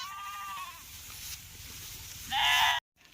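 A sheep bleats twice, a wavering call at the start and a louder, closer bleat near the end, over low outdoor background noise.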